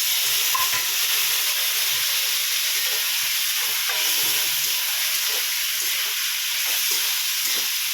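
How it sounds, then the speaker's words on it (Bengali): Cumin and ginger paste masala frying in a pan for a papad curry, giving a steady, loud sizzling hiss that runs unbroken for the whole stretch, with faint scrapes from stirring and no talking. "ভালো করে মশলাটাকে কষিয়ে নেব"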